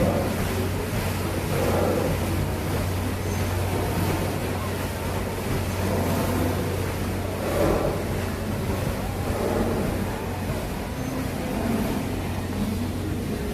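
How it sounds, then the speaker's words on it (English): The paddle wheel of the Mark Twain riverboat at Disneyland churns the water in a steady broad wash with soft rhythmic surges. A low engine hum runs beneath it and wind buffets the microphone. "You guys hear those paddles hitting the water?"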